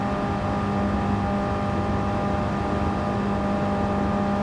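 A classic Mini's engine in a driving game, a steady, fairly loud drone that holds at an even pitch and level throughout, heard alone without talk.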